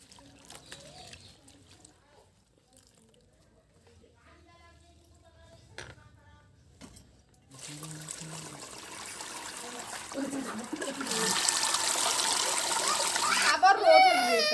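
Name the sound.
water running while washing bathua leafy greens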